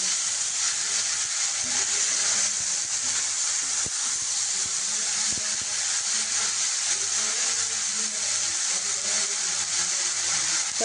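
Pieces of coconut and ash gourd frying in a pan, giving a steady, even sizzle and hiss that continues alone, with a couple of faint clicks from stirring.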